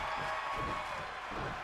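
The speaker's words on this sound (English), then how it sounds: "The crowd chanting, fight forever." Arena crowd noise from a wrestling match in the video game WWE 2K24, a steady, dense roar of many voices with faint rhythmic swells suggesting chanting, loud and continuous throughout with no clear individual speech.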